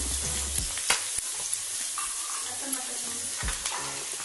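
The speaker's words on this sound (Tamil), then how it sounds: "இப்போ நல்லா கிளறி விடுங்க. பூண்டு போட்டுக்கிறேன்" Garlic fries with a steady close sizzle in a pan for mushroom manchurian, and a spoon scrapes and taps through it as it is stirred; no voices.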